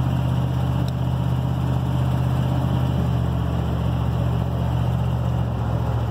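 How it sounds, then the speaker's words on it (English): A 454 engine with a cracked exhaust manifold idles steadily and close, a continuous low rumble with a ticking exhaust leak and no speech. "Listening to the lovely cracked exhaust manifold"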